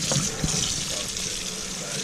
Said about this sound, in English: So we're just going to rinse it real quick in cold water